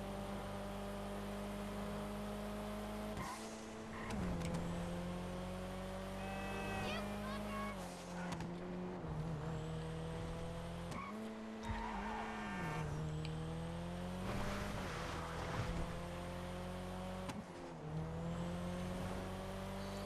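Car engine while driving in GTA Online, a continuous droning engine note that rises and falls with gear changes and throttle, with occasional tire squeal and brief drops in revs.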